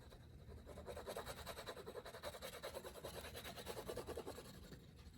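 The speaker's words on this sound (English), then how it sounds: "I use my burnishing tool. All right, and let me just go back and forth and make sure the edges are sealed." A burnishing tool rubs back and forth along the edges of thick leather, making quiet, close, rhythmic rasping strokes in a steady repeated pattern.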